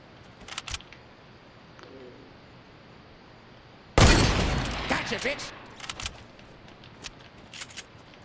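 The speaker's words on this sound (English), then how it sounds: "if you're really good at with shotguns, this is the shotgun to use" A shotgun fires in the video game Fortnite: one loud, sharp blast with a decaying tail, followed by fainter clicks and clatter, and a few quieter earlier taps.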